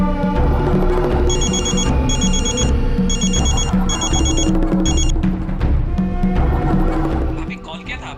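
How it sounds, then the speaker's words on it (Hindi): An unanswered telephone rings repeatedly in a domestic crime drama, its bursts of electronic ringtone chiming steadily over a music bed, fairly loud and close. "ये तरुण फ़ोन क्यों नहीं उठा रहा है?"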